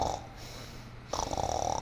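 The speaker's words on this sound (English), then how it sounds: "He began to nod, and he began to snore." A giant snoring in a storybook reading, two drawn-out rasping snores close up, the second louder and more rattling than the first, with no talk.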